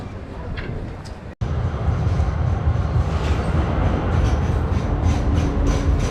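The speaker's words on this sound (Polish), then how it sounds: "Są oczywiście i takie tramwaje, tutaj są różne tramwaje" Tram noise rumbles close by in Sofia with a dense rolling roar after a brief cut, steady and loud with faint rattling on top.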